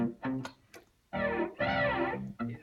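Distorted electric guitar through a Boss Katana 50 amp on its distortion channel, short picked notes followed by two sustained gritty chords with a brief stab at the end.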